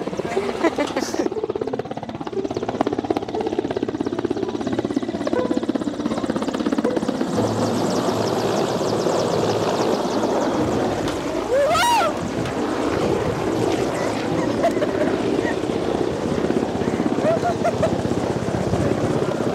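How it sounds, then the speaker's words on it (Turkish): A loud helicopter thunders steadily with continuous rotor noise and whine, close and dominant throughout. "Geldi mi böyle geliyor helikopter."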